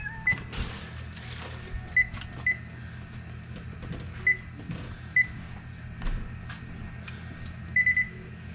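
A kitchen timer in a home kitchen beeps in short, sharp, high chirps spread at irregular intervals, mixed with clunks and handling noises under a low steady hum.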